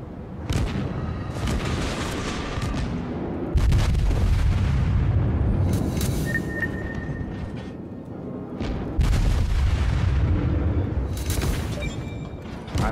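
Naval guns fire in World of Warships while the destroyer USS Sims comes under fire, heavy booming salvos landing in clusters over a constant rumbling background, with a few sharp high pings.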